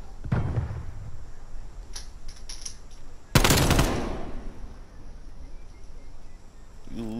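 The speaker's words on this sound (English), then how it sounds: "Hostile sentry turret active." Hostile sentry turret firing in a video game, an opening burst and then a loud, dense volley of rapid shots that fades out, with scattered game sounds and a brief voice.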